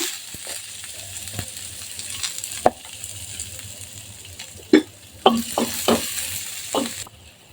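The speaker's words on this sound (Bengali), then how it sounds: "আমি এবার কয়েকটা শুকনো মরিচ আমি ভেজে নিচ্ছি এবার সামান্য একটু পেঁয়াজ ভেজে নিব" Dried red chillies and onion fry in a pan with a soft, steady sizzle, broken by scraping stirs and a cluster of sharper clicks and knocks toward the end. No one speaks.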